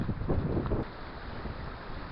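Steady wind gusting through a riverside wood along the River South Esk in Scotland, a broad rushing noise with a louder surge early on that settles into a constant low roar.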